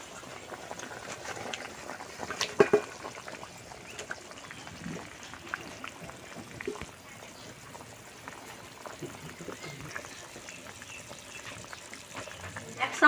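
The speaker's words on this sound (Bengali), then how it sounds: "তরকারিটা ফুটে দিতে এই ভেজে রাখা মাছটা দিয়ে দিই।" Fish curry with fried fish and taro boiling in a pot, a low, constant bubbling simmer heard close but faint, with a few louder splutters.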